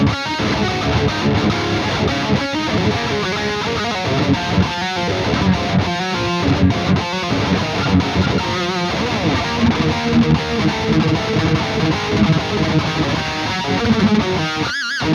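An electric guitar played through a pushed amp channel with an overdrive front end, giving a dense, distorted tone with chords and rhythmic picking, loud and continuous without any talking.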